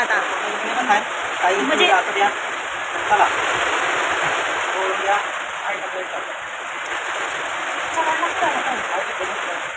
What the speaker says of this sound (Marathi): आमच्या इकडे लय भरपूर पाऊस लागलाय आता.